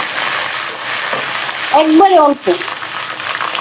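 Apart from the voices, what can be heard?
ginger paste frying with browned onions in a pan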